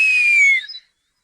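A cartoon girl whistles a single clear, loud note that slides gently downward and cuts off abruptly, with nothing else around it.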